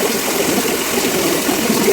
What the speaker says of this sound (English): I'm just gonna turn on the bath faucet. It's loud as heck.